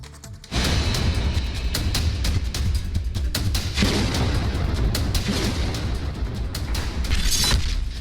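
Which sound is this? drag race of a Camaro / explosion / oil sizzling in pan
explosion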